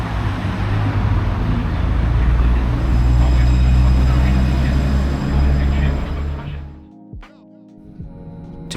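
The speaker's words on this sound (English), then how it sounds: "To get to the next location, I took a tram" A tram on Lyon's public transit network rumbles along at close range, a steady low rolling roar with rail noise that fades sharply near the end, leaving a few faint clacks and a quieter background.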